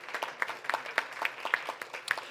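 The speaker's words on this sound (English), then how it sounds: "give them a round of applause" A breakfast audience at a congressional event claps in scattered, individual hand claps with an uneven rhythm, moderately near and fairly soft, with no talking.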